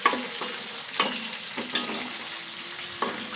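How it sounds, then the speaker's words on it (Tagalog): Chicken frying in a pan for tomato-stewed chicken gives a soft, continuous sizzle, punctuated by several sharp knocks and scrapes of a spoon as it is stirred, close and fairly quiet. "Saka haluin muna natin para bumango."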